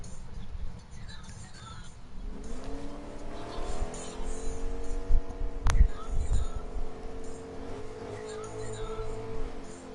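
A race car on a practice lap, its engine note climbing steadily and building to a loud, close pass in the middle before easing off, with voices talking over it.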